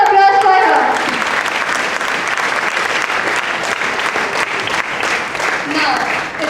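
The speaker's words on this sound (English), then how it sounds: "A big round of applause for her." An audience gives a big, sustained round of applause for a student topper at an achievement ceremony, a loud, steady wash of clapping that briefly rides over a voice at the start.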